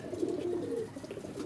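Pigeon cooing, a soft repeated low warble close by, running steadily through the moment with no talk.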